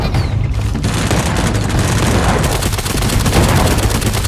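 Rapid sustained fire from an MK14 rifle in the cartoon battle royale game Sausage Man, a dense stream of close, loud shots crackling continuously for several seconds.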